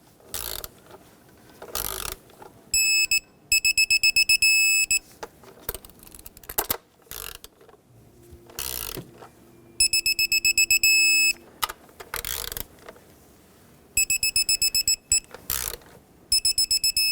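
A torque wrench tightens ignition coil bolts on a 3.6L Dodge Grand Caravan with rapid ratcheting clicks. Several bursts end in sharp high-pitched click-tone signals, separated by quieter handling noises.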